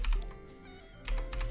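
Typing on a computer keyboard in bursts of quick clicks, dense at the start and again near the end with a quieter stretch between, close and alone without talk.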